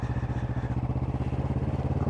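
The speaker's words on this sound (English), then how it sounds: "I mean, this is quite a powerful motorcycle." A powerful Kawasaki motorcycle engine runs steadily nearby, with a deep, even, pulsing throb and a loose mechanical clatter that holds constant throughout, with no talk over it.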